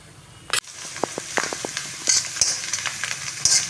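Green chilies, ginger, garlic and dry chilies fry in hot oil for ajwain rice, a steady close sizzle broken by sharp pops and crackles, with one loud clatter near the start and no talking.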